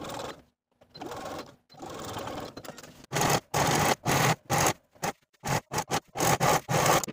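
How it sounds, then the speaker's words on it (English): A sewing machine stitches shut the opening in an elastic waistband on winter pants, running in bursts: long steady runs at first, then a string of short, rapid stop-start stitching runs with brief pauses between them. "we can sew that opening shut following the original stitching line and finish those raw edges together"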